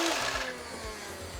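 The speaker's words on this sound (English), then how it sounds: "When you rev it up, it'll fire." The flywheels of a DartZone Matrixfire blaster spin up, a brief whirring motor hum that shifts pitch in quick pulses, close but fairly quiet, with no talk over it.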